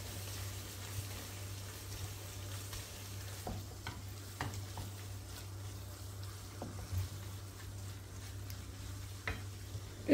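Steady frying sizzle of onions, tomato paste, chilli powder and black pepper in a pan, with occasional stirring scrapes and clinks, a constant low hum underneath, no talking.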